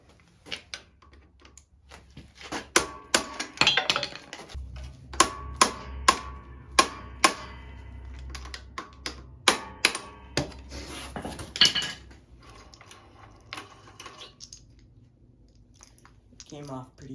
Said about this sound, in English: I need a hammer and I'm just gonna use a screwdriver.